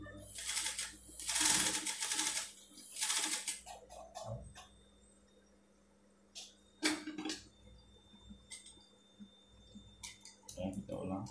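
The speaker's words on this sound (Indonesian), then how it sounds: "Baru jahit." A sewing machine stitching a shirt runs in loud rapid whirring bursts at the start, then short intermittent stitching runs with quiet gaps, close by, with a thin high whine throughout.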